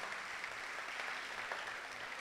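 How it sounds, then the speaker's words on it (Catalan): Audience applause at an end-of-year school festival in a hall, a dense steady wash of clapping hands held at an even level throughout, with no talk over it. "des d'aquí un fort aplaudiment per Juani"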